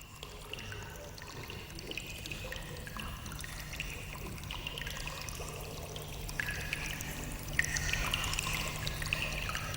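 Water trickles softly and continuously into a bowl inside a rock-carving cave, a faint, gentle patter that grows a little fuller near the end.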